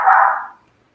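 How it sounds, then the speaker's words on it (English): A single short dog bark rings out close and loud, then fades quickly into silence. "I'm sorry about my dogs barking"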